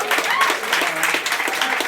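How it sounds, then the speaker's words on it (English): An indoor audience applauds, a dense steady patter of clapping that fills the short stretch with some voices mixed in. "Round of applause to Tom"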